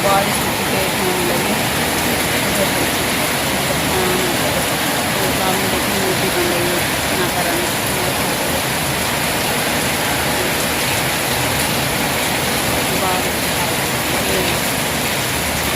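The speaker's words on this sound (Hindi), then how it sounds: "ज़्यादा बारिश हो रही है।" Heavy rain pours steadily throughout, a dense, loud, continuous hiss and patter with no break, close and enveloping.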